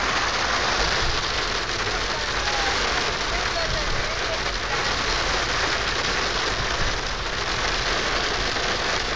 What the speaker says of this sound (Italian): Pare che grandina!